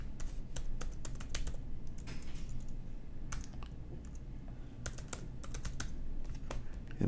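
Rapid keystrokes on a computer keyboard as a website address is typed, the clicks arriving in quick irregular bursts with brief pauses between them, close and crisp over a low steady background hum, with no talking.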